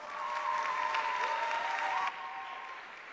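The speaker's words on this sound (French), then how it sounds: "Sous vos applaudissements" An audience at a formal ceremony claps steadily and loudly for about two seconds, then the applause thins and fades off. Some crowd murmur runs under the clapping.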